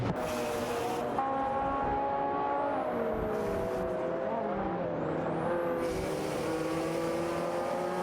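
Several race cars drive in an AI racing video game, their engines droning steadily at close range with rising and falling pitch as they accelerate and shift, occasional tire squeal, continuous throughout without talk.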